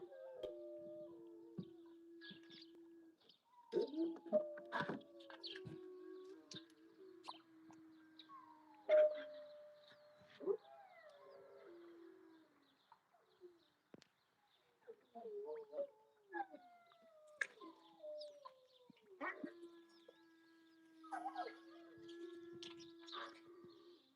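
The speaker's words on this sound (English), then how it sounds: "dogs are howling." Several dogs howl together outdoors, long wavering wails rising and falling in overlapping voices, fairly distant, with brief yelps and pauses between bursts.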